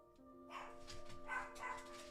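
Dogs bark in a few quick, fairly faint yaps and woofs over a low steady hum, clustered together in a short burst.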